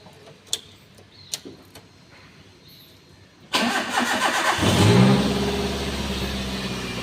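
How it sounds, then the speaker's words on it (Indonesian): A few faint clicks, then a car engine cranks and catches, rising into a loud rev before settling into a steady idle, with the air conditioning being switched on, during a routine service on a workshop lift. "kita hidupkan mesin dan AC"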